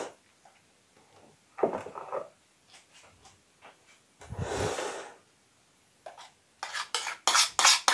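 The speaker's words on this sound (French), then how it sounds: "Maintenant, on va le verser dans notre saladier." Coleslaw with a creamy fromage blanc dressing tipped into a salad bowl, a soft wet slump of shredded cabbage and carrot lasting about a second amid quieter kitchen clinks and brushing sounds.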